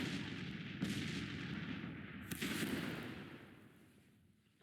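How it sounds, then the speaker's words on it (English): Cannon fire in the Civil War strategy game Grand Tactician, two or three booming shots rumbling over a steady low battlefield din, moderately loud with no speech. "It appears our artillery has found them."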